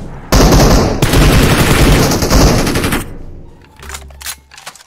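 Rapid automatic gunfire in the mobile battle-royale game PUBG Mobile, a loud sustained burst of shots broken by a short pause, then tapering off into a few quieter, scattered shots at the end.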